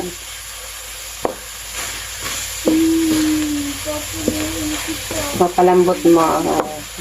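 Pork for adobo frying in oil in a pan, a steady sizzle with clicks and stirring scrapes, growing busier and louder toward the end, with no talking.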